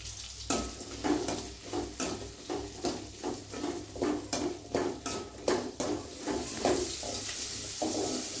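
Curry leaves hitting hot oil in a pan for tomato kuzhambu, a continuous sizzle broken by a regular series of sharp spoon taps and stirring scrapes against the pan.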